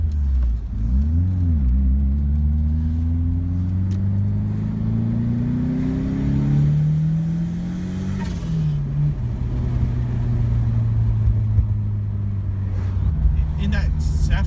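A turbocharged Ford Sierra Sapphire accelerates hard on boost, its engine note climbing steadily, easing off briefly, then holding a strong, loud, close drone.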